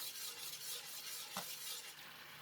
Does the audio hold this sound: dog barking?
no